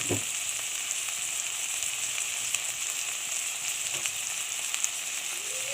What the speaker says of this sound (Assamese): কেঁচা মটৰৰ লগতে কাটি ৰখা পিঁয়াজ পাতখিনিও মই দি দিলোঁ আৰু এইখিনি মই মিডিয়াম ফ্লেমত বনাই আছোঁ